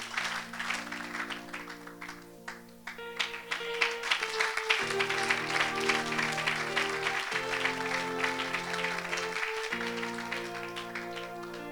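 A church congregation claps and cheers steadily over loud musical accompaniment, the applause sustained across the whole stretch.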